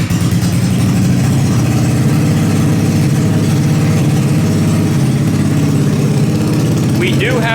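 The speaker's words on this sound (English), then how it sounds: "This will be the first time firing up and everything with the new carb, exhaust." A small-bore trike engine, freshly fitted with a new carburetor and a baffled exhaust, runs loud and steady from start to finish with a throbbing idle rumble close to the microphone.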